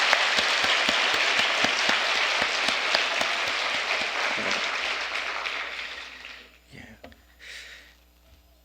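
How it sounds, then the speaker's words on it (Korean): A church congregation at a New Year's Eve service claps together for the young people, a dense and loud burst of applause that gradually thins out and fades, with a few voices near the end. "우리 청년들에게 격려 박수 한번 보내주시기 바랍니다"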